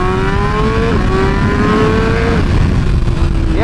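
A BMW M1000 motorcycle engine revs hard and close, its pitch climbing in rising sweeps with brief drops between shifts, loud and continuous with no talk over it.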